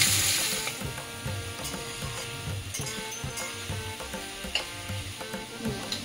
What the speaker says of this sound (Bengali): এবার এটা সামান্য একটু নাড়াচাড়া করে, বেশি ভাজবো না, একটু একটু ভেজে নেব।